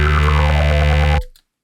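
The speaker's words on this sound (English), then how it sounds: "create a really wobbly, rough, dubby sort of bass sound" Bass guitar run through filtering, distortion and an envelope-modulated formant filter, giving a wobbly, rough dub bass tone that pulses steadily for about a second before cutting off sharply.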